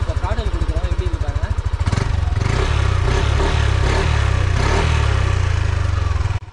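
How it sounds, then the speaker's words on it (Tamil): Yamaha Aerox 155 maxi scooter engine and exhaust running close by, a steady loud idle with rapid pulsing that rises as the throttle opens around two seconds in and holds a strong drone until it cuts near the end. "இப்போ வந்து இந்த வண்டியோட வந்து சவுண்டு எக்ஸாஸ்ட் சவுண்டை கேட்கலாம்."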